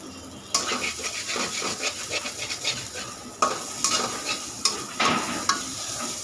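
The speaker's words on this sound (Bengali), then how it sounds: "আমার মশলাটা দেখবে একদম ভাজা ভাজা হয়ে গেছে" Spice paste for a boal fish curry frying in a pan, soft crackling sizzle with repeated scraping and clinking strokes of a utensil against the metal, close and moderately loud.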